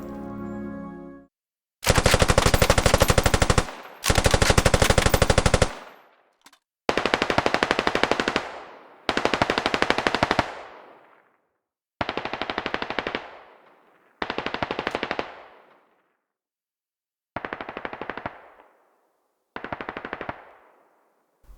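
A Minimi light machine gun fires in the military shooter game Squad: two long sustained bursts, then about seven shorter bursts separated by silent gaps, each close and loud with a short decaying tail.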